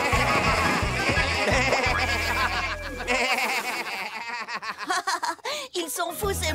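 Several sheep bleats and chuckling animal calls ring out over a lively, cartoonish music bed from a children's cartoon, with voices briefly mixed in near the end.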